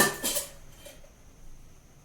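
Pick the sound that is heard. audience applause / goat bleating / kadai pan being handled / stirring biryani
kadai pan being handled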